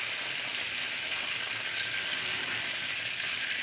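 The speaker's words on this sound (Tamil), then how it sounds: "சாறை விட்ட உடனே எண்ணெய் பொங்கும், நல்லா பொங்கும்." Herbal juice poured into hot oil in an iron pan for a hair and eye oil, giving a loud, steady, continuous sizzle and froth that holds evenly throughout with no voices.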